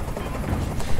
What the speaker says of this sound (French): Fais dégager cet hélicoptère, maintenant !